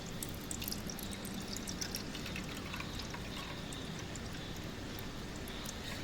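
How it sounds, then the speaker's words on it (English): TAE buffer is poured steadily over an agarose gel in a lab, a soft continuous liquid wash with faint trickling, quiet and unbroken throughout. "And then I am pouring the buffer, that is TAE buffer I have prepared."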